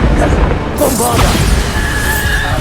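A Bombarda spell explosion in the Hogwarts Legacy video game: a heavy, close blast bursts out about a second in and leaves a noisy rumbling tail. A voice is heard over it.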